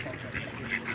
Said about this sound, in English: These ducks are so funny.